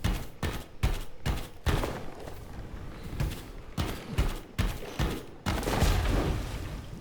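Explosions and rapid blasts in a mech-building video game session, a dense run of sharp bursts and thumps of varying loudness packed close together over a steady rumbling background.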